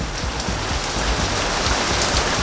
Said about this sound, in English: I knew it was gonna start raining again.